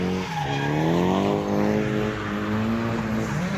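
Drift cars slide around a race course, tires squealing loudly under a revving engine whose pitch rises and falls through the corner, close and continuous.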